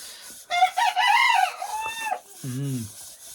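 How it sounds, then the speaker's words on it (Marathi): In a village, a rooster crows loudly nearby, followed by a shorter crow and a hen's squawking clucks, all close and clear. "कोंबडी पण ओरडत आहेत"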